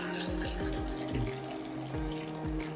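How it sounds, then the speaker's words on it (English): Hot coffee is poured into a container already holding MCT oil and sugar-free French vanilla syrup for bulletproof coffee, making a steady close liquid splash and trickle. "Then we will take the coffee and we're gonna pour it in."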